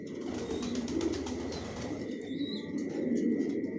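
Long-distance racing pigeons in a loft coo softly and repeatedly, with a brief flutter of wings, close by and with no talk.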